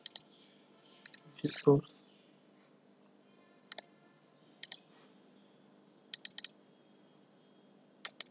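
Sharp computer mouse clicks in short bursts of single and double presses spread over several seconds, close and dry, with a brief spoken phrase partway through.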